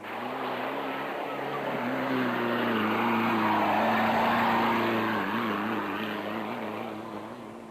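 Off-road racing trucks, a Castrol Toyota Hilux and a Nissan Hardbody, in the Toyota 1000 desert race: a steady engine drone that swells as it passes close, then fades, with faint commentary beneath.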